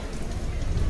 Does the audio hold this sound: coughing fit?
no